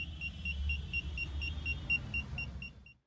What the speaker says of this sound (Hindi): जैसे हम रिवर्स गियर लगाएंगे तो यहाँ पे बीप के थ्रू में वार्निंग भी मिलेगी